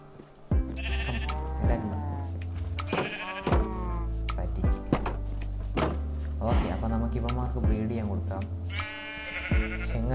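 Sheep bleat repeatedly in a video game, several wavering bleats in a row standing out over steady game sounds.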